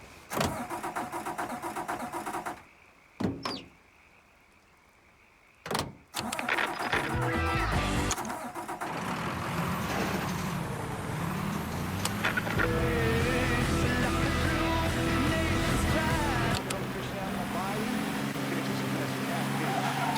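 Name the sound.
car engine starting and driving in video game Mafia III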